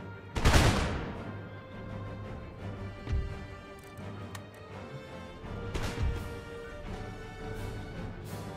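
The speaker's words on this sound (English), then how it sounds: "Go after the line infantry guards with canister shot. You may make ready and fire." A canister shot volley fired by cannon in the Napoleonic-era strategy game Empire: Total War, with one loud, close blast near the start, then scattered sharper reports over a steady low battle rumble.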